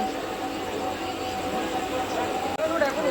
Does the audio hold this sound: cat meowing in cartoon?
no